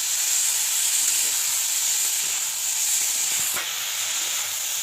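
A paste of ground ginger, garlic and onion, stirred into spices frying with flat beans in a pan, gives a loud, steady, bright hiss with faint scraping taps, with no talk.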